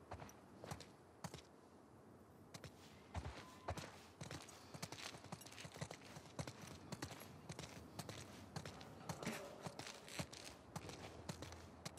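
Horse hooves clip-clopping in The Last of Us Part II, Jackson chapter: a quiet, steady run of hoof strikes in an uneven walking rhythm, heard close and alone over a soft outdoor background for about twelve seconds.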